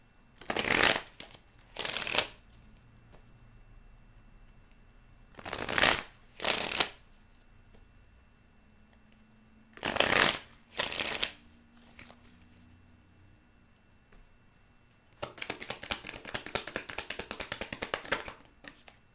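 Tarot cards are shuffled by hand in several short riffling bursts separated by quiet pauses, followed by a longer run of softer, rapid card shuffling near the end; close and crisp, no speech.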